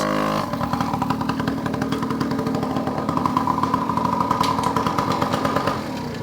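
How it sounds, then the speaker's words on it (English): A Yamaha PW80 dirt bike engine runs loud and close, a steady buzzy two-stroke drone held at high revs through a speed run, with no talk over it. "Show you guys that this bike can actually go pretty fast."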